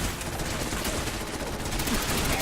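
Sustained automatic turret gunfire during an intense Fallout 4 battle, a dense, continuous rattle of rapid shots that stays loud and steady throughout, with no pauses.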